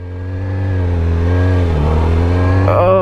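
A 2017 Yamaha R6 sport motorcycle's engine drones steadily and loud while riding, its pitch rising slightly and holding high for several seconds with a brief extra shift near the end.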